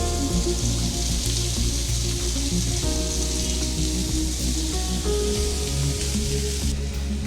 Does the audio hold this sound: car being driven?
no